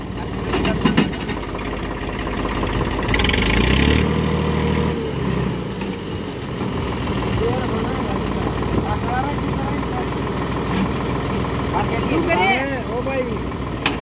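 An old Indo Farm 3055 tractor hitched to a big 30-disc harrow runs in the open, a steady mid-pitched diesel rumble with louder surges early on, while people talk over it.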